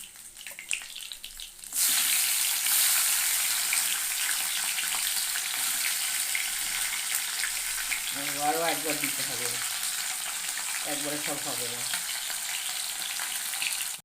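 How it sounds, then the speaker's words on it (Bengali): Tengra fish fry in hot oil in a pan, a loud, continuous sizzle that bursts in after a quiet start and holds steady, while someone speaks briefly twice over the frying. "এই দেখো মাছগুলো আমার সব ভাজা হয়ে গেছে দেখো বেশি কড়া করে ভাজিনি বেশ সুন্দর ভাজা হয়েছে"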